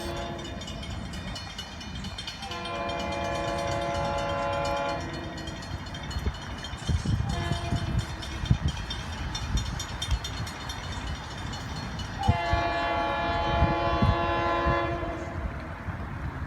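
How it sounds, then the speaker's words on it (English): A train horn sounds in long blasts, first alone, then over the rumble and clatter of passing rail cars, sounding again near the end. "we have train 950 on approach, and here we come with the gates."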